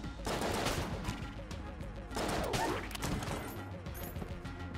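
Rapid gunfire in the Enter the Gungeon video game, two dense bursts of repeated shots, loud and close, with a steadier spray of firing continuing between them.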